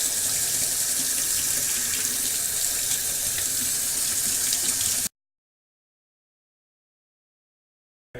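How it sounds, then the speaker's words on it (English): Tap water pouring steadily over rice in a sifter at a sink, a continuous close splashing rush for about five seconds that cuts off abruptly into silence. "we're going to run water over the rice until it comes out clear on the bottom"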